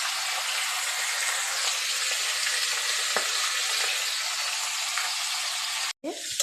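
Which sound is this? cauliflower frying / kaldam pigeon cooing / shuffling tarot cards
cauliflower frying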